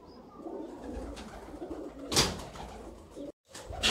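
Ali-line pigeons cooing in a loft in Sialkot, a close, low rolling coo under steady background hum, with a sharp flutter or bump midway and a brief dropout near the end.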